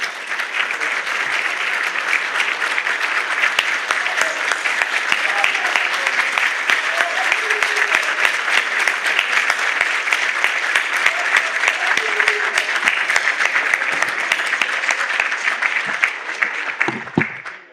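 A large audience at a Turkish sector association election event applauds steadily and loudly, sustained dense clapping throughout with no speech over it, fading out at the very end.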